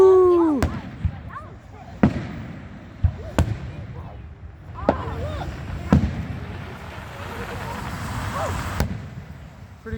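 Holiday fireworks boom repeatedly at a distance, sharp bangs spaced every second or two with crackling in between, while people nearby chatter and exclaim over them.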